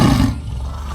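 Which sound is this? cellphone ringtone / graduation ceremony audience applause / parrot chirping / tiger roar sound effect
tiger roar sound effect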